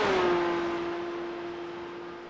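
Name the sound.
GT3 race car engine in a Nürburgring racing video game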